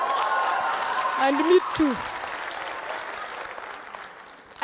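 An audience at a university claps, a brief burst of applause under a speaking voice, with a few louder individual claps standing out near the start and end.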